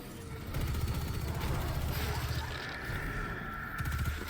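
Repeated gunfire pops and bursts from volatile rounds exploding in Destiny 2, a dense rattling volley with sharp blasts, close and loud over a low rumbling game soundscape.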